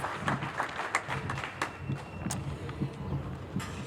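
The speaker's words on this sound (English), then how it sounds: "give her another round of applause for her amazing leadership" Applause from an audience at an outdoor Cape Verdean flag raising ceremony: scattered hand claps patter steadily at moderate distance for a few seconds, fairly thin rather than a large roaring crowd.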